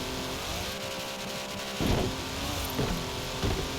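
A car climbs a hill in the racing video game Forza Horizon 4. The engine drones steadily and close, with a few short surges as it revs higher, and no talking is heard.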